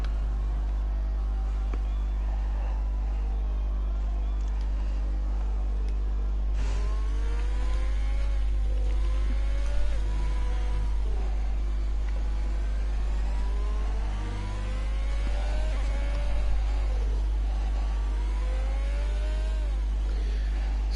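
F1 racing cars circling the Catalunya track in a video game, a constant engine drone with repeated rising revs and gear-change sweeps as cars pass, steady and moderately loud throughout.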